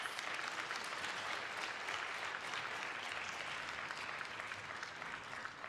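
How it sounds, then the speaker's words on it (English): An audience applauds for the orchestra club helpers, a steady, dense patter of many hands clapping at moderate volume, holding evenly for several seconds with no talk over it. "I just want to give them a round of applause for all the help that they offer."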